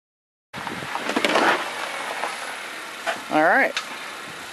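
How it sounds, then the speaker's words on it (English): A 2011 Honda Civic backs down off service ramps after an oil change, a steady broadband engine and rolling rumble running throughout at moderate level, with a person briefly voicing a sound partway through. "Have my assistant back it down off the ramps."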